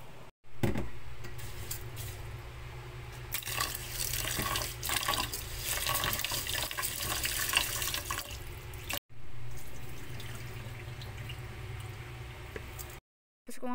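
Tap water runs steadily into a pot of washed rice being readied for a rice cooker, splashing and gurgling for several seconds with brief pauses where the flow stops, close by in a home kitchen.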